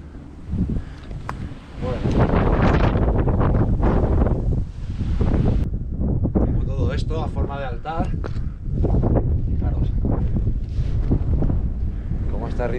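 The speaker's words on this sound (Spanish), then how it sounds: "Y ahora tenemos un viento del demonio." Strong wind roars across the mountain at Montserrat, a loud continuous buffeting that batters the microphone, while people talk over it.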